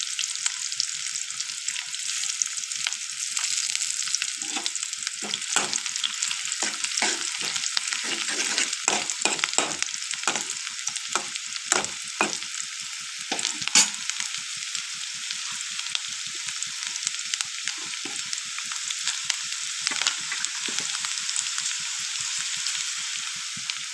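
Onions and cumin fry in a pan with a bright, constant sizzle, while rapid utensil scrapes and taps come in clusters through the middle, close and fairly loud, with no talking.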